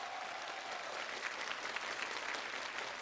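Applause from an audience at a televised Peking opera performance, a dense, even clapping that fills the whole stretch at a moderate distance.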